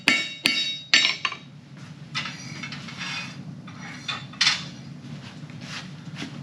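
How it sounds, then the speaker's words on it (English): A hand hammer striking hot metal while forging leaves for a plant stand, a few sharp ringing blows early on, then quieter scraping and tapping at close range. "I'm going to try and just move the metal with my hammer strikes to where it looks good"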